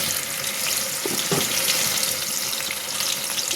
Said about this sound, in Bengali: তেলটা ভালোই গরম হয়ে গেছে। এখন আমি মাছ দিয়ে দিচ্ছি একটা করে।